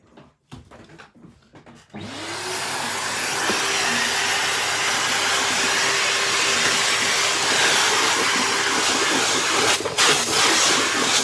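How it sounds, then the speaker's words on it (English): Vacuum cleaner sucking up wood shavings indoors. A few knocks come first, then the motor spins up and holds a loud, steady roar with a whining tone to the end. "I've got to get the vacuum out and get rid of all these shavings."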